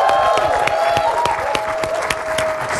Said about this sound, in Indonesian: Mari kita berikan tepuk tangan yang meriah untuk David Nurbianto.